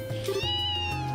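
A single drawn-out cat meow from Trails in the Sky SC, close and clear, sounding alone for about a second.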